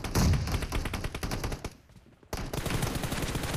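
Rapid automatic gunfire in a PUBG Mobile team deathmatch on the Korean version, loud and continuous, with a brief lull before the bursts resume.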